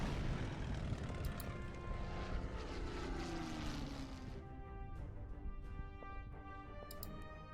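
Propeller-driven LaGG-3 fighter plane in the Order of Battle: Red Steel strategy game, a steady loud engine drone with shifting pitch that thins out toward the end, no voices.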